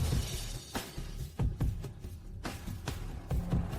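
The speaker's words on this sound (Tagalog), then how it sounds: "Sinira mo ang bato ng makalangit na daw" Heavenly dao stone shattering as a fantasy story sound effect: several sharp cracking bursts spread over a few seconds, each with a bright breaking snap, over a dense rumbling bed, fairly close and with no speech.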